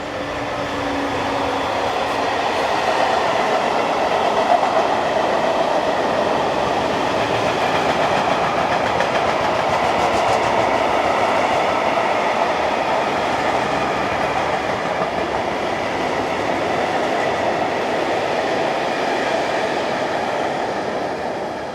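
An eastbound freight train rolls past on a European main line, a steady, loud rumble of wagons with clickety-clack wheel beats and faint squeal, continuous for the whole stretch with no voices.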